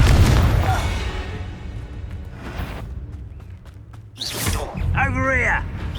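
A Confringo blasting spell from the Hogwarts Legacy video game bursts out twice, a booming, crackling blast at the start and a sharper swell near the end, with a voice crying out over the second burst.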